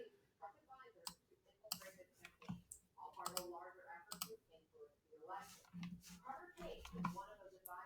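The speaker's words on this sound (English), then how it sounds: "Let's click on this." Sharp computer mouse clicks and a few clustered taps sound close by at irregular intervals, mixed in among ongoing speech.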